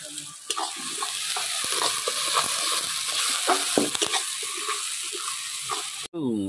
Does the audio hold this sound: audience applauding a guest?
no